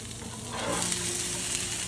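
Cauliflower florets for Gobi 65 frying in hot oil give a steady close hiss and crackle, growing a little louder partway through.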